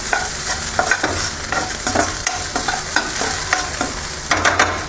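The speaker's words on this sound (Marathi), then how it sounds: "व्यवस्थित भाजून घ्यायची पण बगर व्यवस्थित भाजली ना तर टेस्ट चांगली टेस्ट होते" Barnyard millet (bhagar) dry-roasting in a pan over a gas flame, with a steady close scraping and stirring rhythm, repeated soft clicks of a spoon against the pan over a faint continuous hiss.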